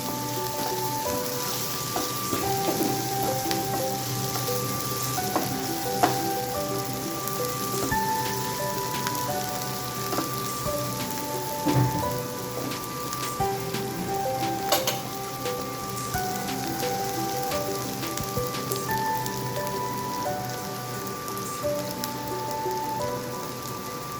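Onions sautéing in a pan for lemon rice give a steady, close sizzle and crackle with no pauses, accompanied by faint tonal background sounds.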